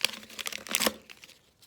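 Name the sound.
label being ripped off a plastic water bottle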